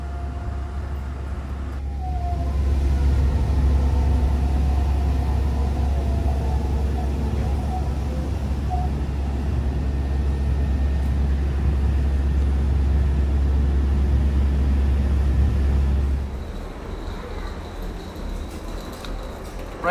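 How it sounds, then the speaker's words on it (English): Steady low rumble and hum from inside the Okinawa monorail heading to Naha airport, with a faint tonal whine above it; the drone drops away abruptly near the end, leaving quieter background noise. "I'm now in the monorail heading to the airport."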